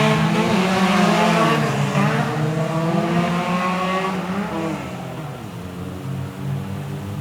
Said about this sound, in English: think they're cool by blowing everyone's ears out with their car engines